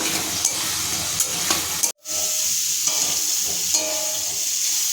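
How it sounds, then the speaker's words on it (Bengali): Fried fritters are stirred into sizzling spice masala in a pan, giving a loud steady frying hiss with occasional scraping stir sounds and a brief cut partway through. "এবার আমি বড়া দিয়ে দিচ্ছি বড়া বড়া দিয়েও আমি মশলাগুলো ভালো করে মিশিয়ে নেব"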